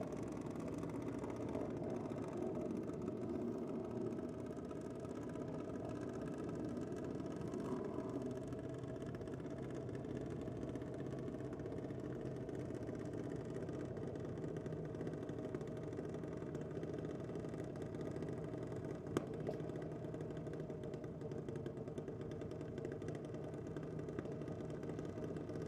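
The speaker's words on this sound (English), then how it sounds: "Sound like the idle speed dropping a fair bit there for McNamara." Drag racing car idling at a dragway during a championship evening session, a low steady engine hum held at a distance for the whole stretch, with no clear change in revs.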